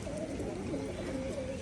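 Giribaz pigeons on a Rajshahi pigeon farm flocking to wheat feed, soft cooing close by amid rustling, with a voice talking over them.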